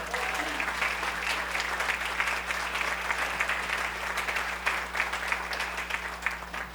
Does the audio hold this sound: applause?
yes